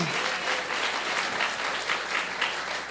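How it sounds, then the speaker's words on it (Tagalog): Church congregation applauding during a Sunday worship service, a steady, dense wash of many hands clapping together for the full stretch, fairly close and with no voices over it. "Pumalakpak ho yung naiintindihan."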